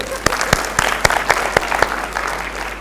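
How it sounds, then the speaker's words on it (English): A live seminar audience claps for themselves on cue, a loud burst of applause with sharp, distinct hand claps standing out at a steady rhythm throughout. "clap for yourself"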